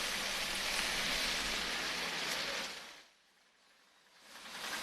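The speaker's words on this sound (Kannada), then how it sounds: "ಕಳೆದ ಹಲವು ದಿನಗಳಿಂದನೂ ಕೂಡ ನಿರಂತರವಾಗಿ ಸಾಕಷ್ಟು ಮಳೆ ಸುರಿತಾ ಇದೆ." Heavy, continuous rain during days of monsoon downpour in Kodagu, a dense broadband hiss that holds steady, dips briefly near the end, then swells back, with no voices.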